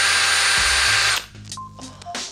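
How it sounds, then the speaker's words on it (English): A Makita XPH10 cordless power drill whines loudly and steadily for about a second before cutting off, followed by quieter mechanical clicks and handling sounds. "It's a Makita XPH10. It just makes this really nice sound."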